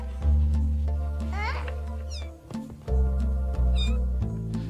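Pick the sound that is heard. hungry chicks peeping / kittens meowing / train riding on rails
kittens meowing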